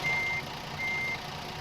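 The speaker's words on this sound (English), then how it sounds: "Let's get it out of reverse so we can get that beep, beep, beep, beep out of the way." Electronic reversing beeps from a truck in the American Truck Simulator video game: two long, steady high-pitched tones separated by a pause, clear and alone over a low background hum.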